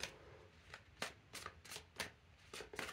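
Tarot cards are shuffled by hand before a draw, a close, quiet series of rhythmic riffling flicks and soft slaps repeating about every half second.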